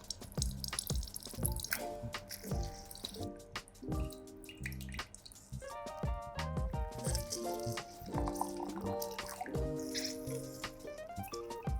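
A halved orange is squeezed by hand, giving wet squelching, dripping and trickling sounds close up, with shifting pitched splashes of juice falling into a container.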